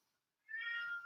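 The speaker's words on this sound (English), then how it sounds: "I'm really sorry about my cat in the background." A pet cat meows once, a clear, fairly close drawn-out call that starts after a short quiet pause and fills the rest of the clip, set indoors during a Pilates mat class.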